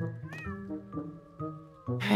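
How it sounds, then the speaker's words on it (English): A cat meows in the video game Impostor Factory, a few clear tonal mewing calls over a soft musical background, ending in a louder burst of sound. "Hey, little kitty."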